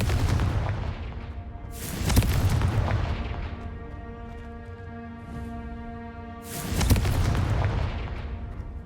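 Booming Confringo spell blasts go off in Hogwarts Legacy gameplay, two loud explosive hits several seconds apart, each trailing into a long ringing, reverberant decay.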